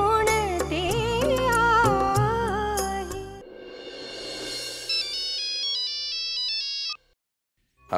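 A melodic phone ringtone signals an incoming call in a Marathi TV serial scene. It plays loud and close, with a bright repeating tune that shifts pattern midway and then cuts off near the end.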